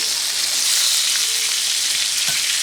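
Thin pieces of food just flipped in a hot pan, sizzling in a loud, even, continuous hiss heard up close, with a faint knock near the end and no talking.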